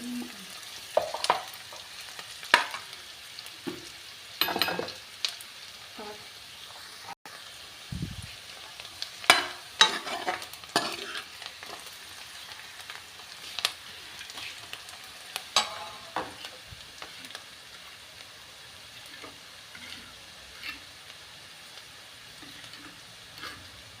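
A tadka of spices fries for an arbi (taro root) curry, a soft continuous sizzle broken by intermittent spoon stirring and clinks, fairly quiet and close, with no talk.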